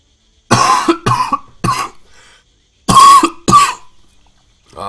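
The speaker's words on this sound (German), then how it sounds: "Ah, der Husten, der geht mir so auf den Sack." A man coughs in several loud, close, harsh bursts: three quick coughs, a pause, then two more, with a faint start of another at the end.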